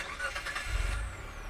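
A Mitsubishi car idling at an auction, a low steady engine rumble with a faint belt-like whine on top, brief and continuous with no one speaking.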